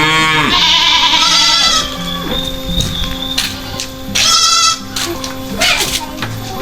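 Goats bleat repeatedly in a shared pen on a farm, the calls overlapping and fairly close among other animal and yard noise.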